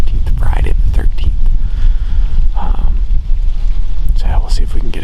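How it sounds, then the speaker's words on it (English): Gusty wind on a cold October day of about 42 degrees, during a whitetail deer hunt, buffets a microphone with a low rumbling roar, while a person talks over it at close range. "It's windy."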